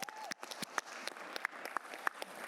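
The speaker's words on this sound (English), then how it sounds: "Let's give them a round of applause again while they're coming up to the front." Scattered applause from a council meeting audience, a thin round of clapping with individual claps standing out, moderately distant in a room, with a faint voice briefly underneath.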